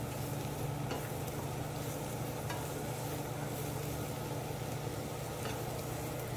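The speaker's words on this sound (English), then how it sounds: "I'm going to add a little tiny bit of olive oil. And we are going to let these cook down a little." Mushrooms cooking down in a little olive oil in a pan give a steady, continuous sizzle with faint stirring scrapes, a constant low hum running beneath throughout.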